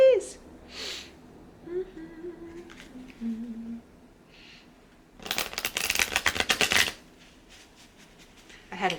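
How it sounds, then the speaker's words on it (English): Tarot cards shuffled in a white deck: a burst of dense, crisp riffling and slapping near the mic for about two seconds, with quieter handling sounds and soft talk around it. "I'm going to shuffle the white deck."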